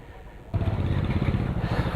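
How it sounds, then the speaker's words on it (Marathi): A motorcycle moving off in a traffic jam on a mountain road, its engine suddenly loud and close after a quiet moment, then a steady rumbling drone with no talk. "निघते बाईक निघण्याचे संकेत आम्हाला दिसत आहेत आता"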